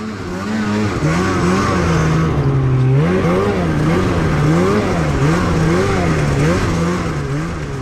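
A snowmobile engine runs loud and close, its pitch climbing and dipping in repeated revs over a steady mechanical drone.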